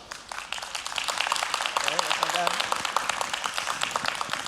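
A high school debate crowd at Indyfest 2022 applauds to vote, with a dense, sustained clapping that builds after the first second and holds steady, with some voices mixed in.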